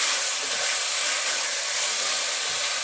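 Chicken frying over a high flame with tikka masala, a steady loud sizzle and hiss filling the whole stretch without a break and with no voices.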